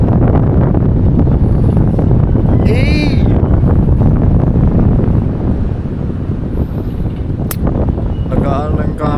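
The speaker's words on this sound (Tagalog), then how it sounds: "Hangin, sarap." Wind buffeting a microphone outdoors on a sunny day: a loud, constant low rumble that fills the whole stretch, with brief higher chirps and a voice faintly underneath.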